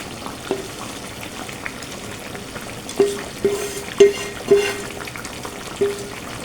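Onions fried earlier go back into the pan, a soft low sizzle broken by several distinct taps and thuds of a utensil against the pan, with no talk.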